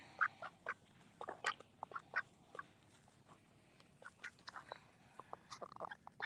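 A duck quacks repeatedly in short, uneven bursts, fairly close, with brief pauses between calls and some light rustling in the background.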